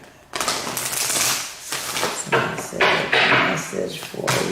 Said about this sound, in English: I'm going to shuffle them one more time